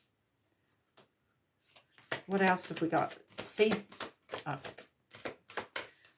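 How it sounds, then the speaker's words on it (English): Tarot cards being shuffled in a run of soft, rapid riffling flutters, close by, with a person talking over and between the bursts. "let me just shuffle"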